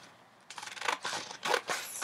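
Scissors snip through gel press tape at close range. After a brief quiet moment come several quick, crisp cuts in uneven bursts, with no voices.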